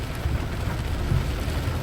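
Heavy rain during a storm in Vientiane, Laos, a steady dense rushing hiss with low rumbling, continuous and fairly loud, no talk.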